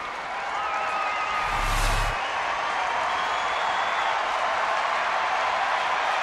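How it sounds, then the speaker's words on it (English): A baseball stadium crowd cheers and applauds in a broad, continuous roar at a Yankees–Rangers game, with a short louder burst near the start. "now the crowd gets into it again"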